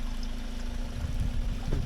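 Water runs steadily from an ancient, partly reconstructed stone water source at the Hattusha ruins in Turkey, a continuous near trickle and gurgle with no voices.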